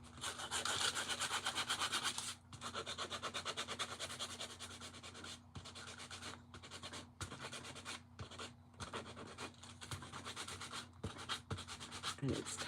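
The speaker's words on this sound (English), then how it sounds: "Sander." Handheld sander working along the edges of a craft piece, a steady close rasping scrub with short pauses, and a voice talks over it.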